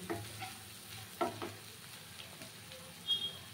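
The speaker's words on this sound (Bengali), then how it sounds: "আর এখন এর মধ্যে দিয়ে দেবো জল" Water goes into a pan of sizzling, already-fried spice masala for a Bhola fish curry, giving faint crackling and sizzling with a few soft clinks and stirring noises, no voices.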